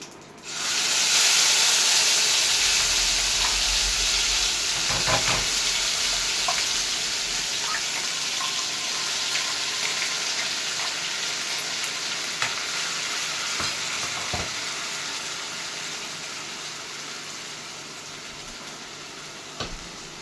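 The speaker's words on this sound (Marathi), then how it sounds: "यामध्ये मी सर्वप्रथम जिरं टाकेन, ठीक आहे, मोहरी टाकेन आणि जी पेस्ट बनवलेली आहे ती टाकेन" Cumin, mustard seeds and a ground paste dropped into hot oil for a mushroom bhaji burst into a loud, steady hissing sizzle with scattered pops, slowly easing over about twenty seconds, no talking.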